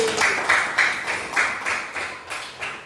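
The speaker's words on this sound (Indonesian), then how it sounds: "Beri tepuk tangan lagi" A classroom gives a round of applause after a student's correct answer in a food-chain lesson, rhythmic unison claps pulsing in regular beats about three times a second, near and moderately loud with no talking.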